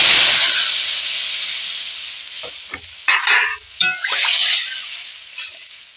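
Water poured into a pan of frying potatoes and turmeric sets off a loud burst of hissing steam that slowly fades, followed by a few scraping stirs and clatters.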